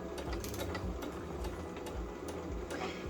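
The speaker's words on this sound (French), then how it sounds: "on avance de 2-3 petits points, on fait notre marche arrière, ou si vous avez un point d'arrêt sur votre machine, et on continue sur toute la ligne" A home sewing machine runs steadily while stitching a straight seam along fabric, with a few short back-stitches at the start, a loud close mechanical whir with rhythmic needle clatter and no talking.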